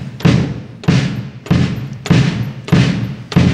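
A bass drum pedal on a drum kit strikes six deep, booming kicks at an even, unhurried pace. Each kick is close and loud, rings out briefly and plays alone without voices.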